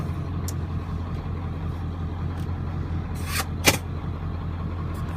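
A lifted Ford F250 with a 7.3 diesel engine runs with a steady, deep, rumbling idle throughout, close and loud, with one sharp clack near the end.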